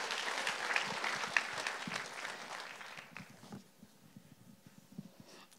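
Congregation applause at a church worship service, a dense wash of clapping that fills the first three seconds and then thins into scattered claps as it dies away.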